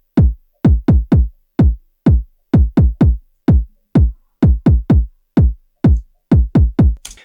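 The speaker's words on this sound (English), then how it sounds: "you also have a kick hitting on an off beat" A punchy house-music kick drum plays alone, with extra kicks landing on the offbeats so the thumps fall in uneven clusters, each deep, clean and short, about twenty hits in a row.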